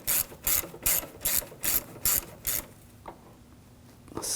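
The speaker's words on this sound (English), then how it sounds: "Now tighten those down." A ratchet tightens bolts while a water pump is fitted to a 2007-2013 BMW 328i with a 3.0L inline-six: seven quick, even bursts of close clicking, then near silence with a couple of faint knocks.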